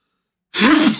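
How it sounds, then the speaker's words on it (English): A single sneeze tangled with a laugh bursts out suddenly and close, a short voiced outburst of about half a second that stands alone after silence. "I had to laugh and sneeze at the same time"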